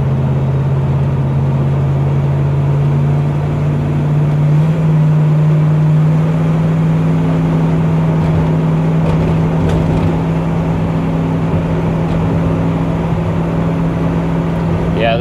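A 1969 Camaro Yenko recreation engine drones steadily while driving, a deep, constant tone that rises slightly in pitch partway through and holds loud and close throughout.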